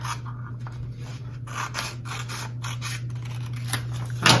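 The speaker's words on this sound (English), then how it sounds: "Just take your scissors, be careful while you're doing this" Scissors snipping paper to trim off an extra square, a quick series of crisp cuts and rustles close to the microphone over a steady low electrical hum, with no speech.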